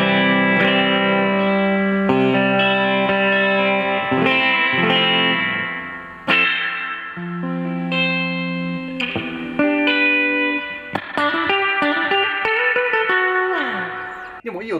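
Electric guitar through a BOSS FRV-1 Fender Reverb pedal, its spring reverb giving bright plucked notes and chords a long splashy tail, played loud and close for the whole stretch with no talking.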